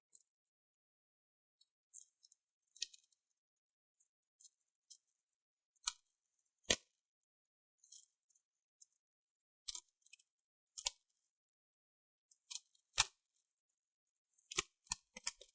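The old keyboard being peeled off a Huawei D14 laptop, a scattered series of sharp crackling clicks and small snaps as adhesive and plastic come loose, close and otherwise quiet.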